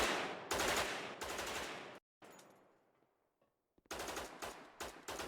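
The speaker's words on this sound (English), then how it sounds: "this last thing is kind of the gun sound effects in different environments" Loud bursts of rapid automatic gunfire from the video game Dead Matter crack in close succession, break off into a fading echoing tail and a short silence, then resume in hard repeated volleys.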